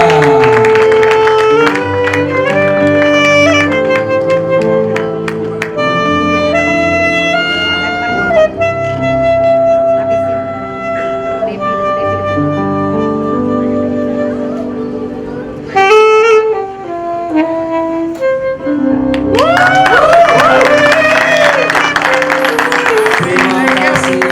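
Wedding guests clap for the bride and groom, Debbie and Rangga, at an evening reception. The applause is partly masked by loud music playing throughout, with bursts of clapping rising near the end.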